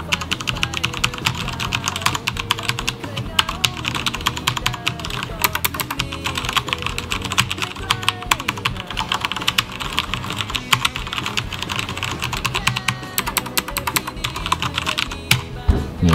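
Rapid, continuous typing on a black Tt eSports MEKA G-Unit mechanical keyboard, crisp close key clicks in an uneven stream throughout, with no voice over them.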